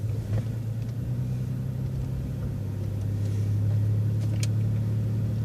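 A city bus on Route 65 pulls away from a stop with a steady low engine rumble and drivetrain drone, holding close and fairly loud for several seconds with a faint rattle over it.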